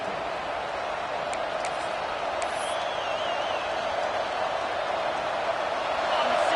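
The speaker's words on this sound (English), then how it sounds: "And here comes the noise. This crowd is trying to inspire this defense to make a big red zone stop." A football stadium crowd roars in a broad, sustained wash of noise during an Ohio State game, the roar swelling slightly toward the end.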